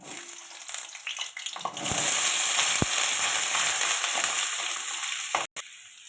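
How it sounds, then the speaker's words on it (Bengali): Potato pieces sizzle in hot oil in a pan; the frying hiss jumps to a loud, steady sizzle after about two seconds and holds, with a brief knock near the end. "তেল দিয়ে দিলাম আলুটা ভেজে নেওয়ার জন্য আলু দিয়ে দিলাম"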